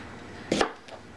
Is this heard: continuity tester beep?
no